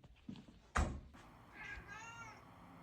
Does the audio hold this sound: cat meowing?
yes